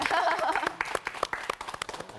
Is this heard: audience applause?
yes